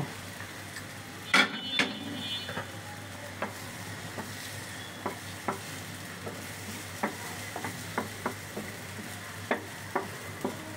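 Jal pantua frying in a little oil in a pan, with a soft steady sizzle broken by sharp clinks and taps as the pieces are stirred and flipped.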